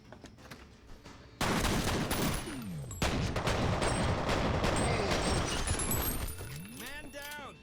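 Bursts of automatic gunfire in F.E.A.R. Perseus Mandate rattle loud and close, with a dense sustained fusillade running through the middle and mechanical clicks and whooshing shots around it.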